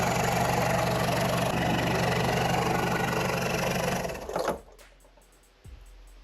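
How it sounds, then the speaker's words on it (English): A turbocharged Toyota Hilux LN106 engine runs loud and steady with a dense droning idle, then cuts off abruptly near the end, leaving near silence broken by a single faint thump. "Start her up, JJ."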